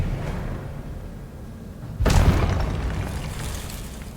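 A fiery Confringo blast erupts midway through Hogwarts Legacy combat, a sudden loud boom with crackling, shattering debris that trails off into rumbling game ambience after a quieter lead-in.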